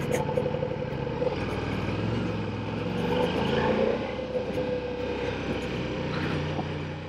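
A 2023 Ducati Diavel V4 motorcycle on the move, its engine a steady, full rumble with wind noise that swells slightly midway and holds at a constant level throughout.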